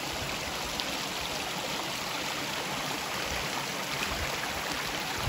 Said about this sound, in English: creek running pretty good.